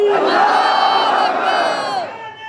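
A large crowd at a religious gathering answers a takbir call with a slogan, shouting in loud unison as one sustained chant that lasts about two seconds before trailing off.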